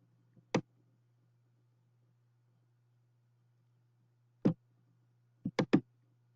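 Sharp computer mouse clicks: one lone click, a pause of several seconds, then a quick cluster of three or four clicks, crisp and close against a quiet low hum.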